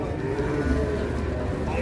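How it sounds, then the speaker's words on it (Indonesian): A cow moos in a long, low, drawn-out call, close and loud, with a little background noise. "Sapi bertopeng, guys."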